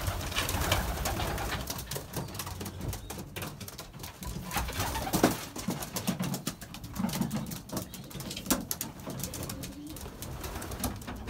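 Young pigeons coo steadily in a loft, with the soft, overlapping throaty calls of many birds and occasional wing flutters or shuffling close by.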